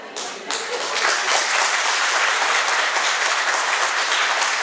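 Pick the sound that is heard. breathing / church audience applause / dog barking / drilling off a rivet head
church audience applause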